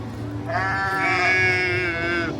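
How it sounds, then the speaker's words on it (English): Sheep bleat loudly and close by at the Universal Epic Universe theme park, one long wavering call over a steady background murmur of the crowd. "you can hear sheep in there"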